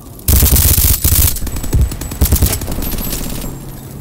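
Rapid automatic gunfire from a video game shootout on a prison rooftop, loud and continuous bursts filling nearly the whole span after a brief quiet start.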